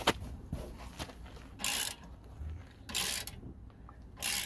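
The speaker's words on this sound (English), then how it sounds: "Now we can go ahead and remove our 2 caliper bracket bolts." Ratchet wrench working caliper bracket bolts on a Jeep Renegade front brake, with close metallic clicks and several short bursts of loud ratcheting.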